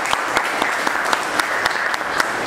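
A Grade 10 classroom claps for students, a short burst of brisk, fairly even handclaps from a small group, close and lively with sharp individual claps standing out.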